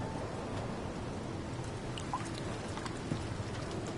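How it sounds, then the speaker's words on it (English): Steady rain patters down on an alien planet in No Man's Sky, a dense, even wash of drops that holds at a constant level throughout, heard alone with no talking. "I know, it's still raining."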